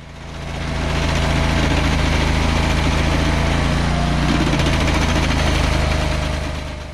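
A Barreto SG30 stump grinder's engine idles at a steady, loud, buzzing drone with constant vibration, close by and continuous throughout, fading in and out at the edges with no talking.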